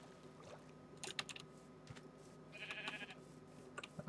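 Faint sheep bleats from the Minecraft video game sound once amid quiet clicky keyboard typing, with no voices.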